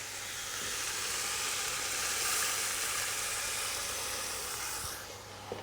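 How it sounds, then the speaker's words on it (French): Wine is poured into a hot cocotte to deglaze a Niçoise beef stew, giving a loud, steady, close sizzling hiss that holds for several seconds before easing off, with no voices. "je vais maintenant mouiller avec le vin"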